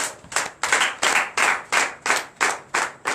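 Congregation in a church clapping in rhythmic bursts, about eight or nine loud, close claps spaced evenly, with no talk over them.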